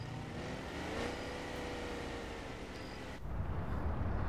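A military vehicle's engine in the video game ARMA 3 accelerating at a steady, moderate hum that swells slightly before a deeper rumble takes over near the end, fairly quiet with no talk.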